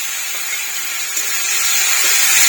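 Tomato paste hits a hot pan of cooked spices for egg shahi korma, giving a steady close sizzle and hiss that swells slightly toward the end, with no talk.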